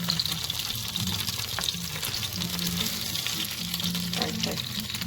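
Beef birria tacos fry in a pan with a steady, close sizzle throughout, overlaid by occasional scrapes and shuffles as they are moved around to crisp.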